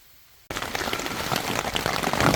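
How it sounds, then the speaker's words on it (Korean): Rain starts abruptly at a mountain valley campsite, a dense close patter of drops that swells steadily louder, with no talking. "해는 있는데 비가 내리네."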